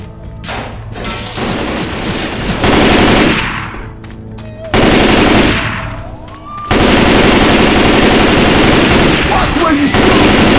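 Sustained, very loud automatic gunfire from the zombie-apocalypse video game Left 4 Dead 2. Dense rapid bursts run almost nonstop, broken by a few brief cutoffs, with booming impacts in a chaotic firefight.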